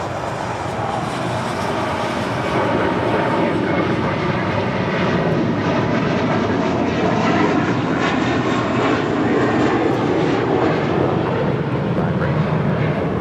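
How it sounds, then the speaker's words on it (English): An American Airlines Airbus A321 taking off from LAX, its jet engines roaring loud and continuous at a distance, with radio-style voices talking over the noise. "This is American Airlines 32, taking off to JFK on the A321."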